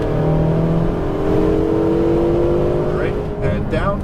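A Ferrari 488 GTB on a racetrack, its engine droning loud and close with rising and shifting tones as it accelerates, while an instructor's voice talks over it.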